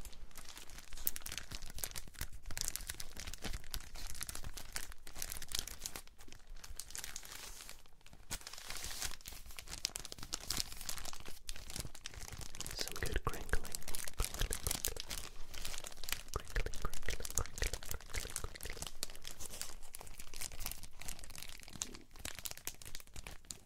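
NBA sticker pack plastic wrapper crinkles and crackles continuously at close range as it is torn open, with sharp rustling bursts and occasional tearing sounds, no voices.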